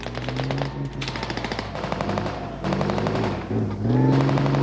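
Bursts of rapid automatic fire from a light machine gun in the game Squad, loud and close, in several sustained volleys with brief pauses between them.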